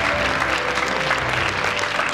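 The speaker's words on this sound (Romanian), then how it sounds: "Aplauze, Izabela Oancea!" Steady applause from a theatre audience at a cultural awards gala, dense clapping with no break, filling the whole moment.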